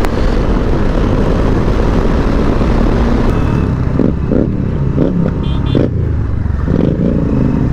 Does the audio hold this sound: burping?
no